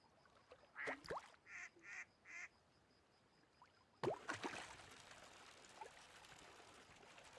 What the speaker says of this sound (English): I hear a very angry duck.